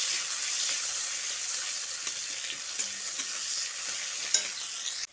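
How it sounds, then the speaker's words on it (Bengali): Steady sizzling of onions frying in a pan, with occasional scraping stirs and a couple of sharp clicks near the end. "পেঁয়াজটা দিয়ে একটু ভালো করে ভেজে নিতে হবে।"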